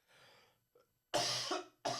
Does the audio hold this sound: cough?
yes